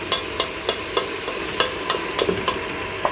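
Onion stir-fries in a pan over turned-up heat, giving a constant loud sizzle broken by regular sharp scraping taps of the stirring utensil, about three per second, with no voices.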